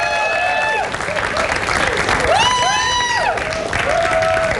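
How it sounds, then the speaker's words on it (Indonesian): A studio audience applauds at a TV quiz show. The steady broadband clapping is layered with bright electronic show jingles and sweeping tones, and a voice is heard over it. "Kita beri tepuk tangan dulu untuk semangat teman-teman kita."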